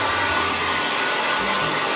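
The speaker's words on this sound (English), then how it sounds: "So flip your head upside down and blow dry away." A hair dryer blows steadily and loudly up close while drying hair flipped upside down, its broad rushing whoosh holding even for the full two seconds with no voices.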